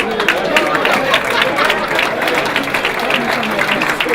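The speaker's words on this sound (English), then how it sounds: "Give me some round of applause on that." A crowd at a community unity breakfast claps in steady, dense applause, loud and sustained throughout with no pauses.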